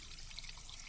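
Fresh, clear water collected at a high point on an ultramarathon route, a steady close trickle and light splashing that runs unbroken for under a second with no talk.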